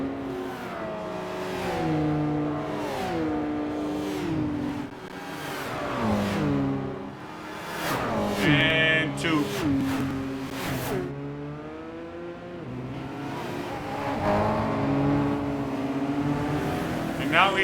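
Race car engines in the Gran Turismo 5 video game whine and rev, pitch climbing and dropping through gear changes as cars overtake, loud and continuous, with someone talking over parts of it.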